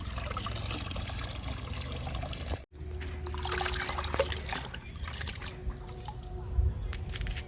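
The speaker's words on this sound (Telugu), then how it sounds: "ఇప్పుడు ఈ లిక్విడ్ని మన మొక్కలకి ఇచ్చేద్దాము." Homemade drumstick-leaf liquid poured onto potted plants, including a lemon plant, giving a steady close trickle and splash that breaks briefly midway, then continues in softer, uneven dribbles.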